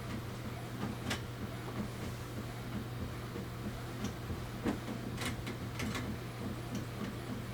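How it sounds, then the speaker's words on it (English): A home printer works through a print job, its steady mechanical whir and hum broken by irregular clicks and ticks of the feed, with no talking over it. "I don't have a camera on my actual printer, but they can hear how it's going."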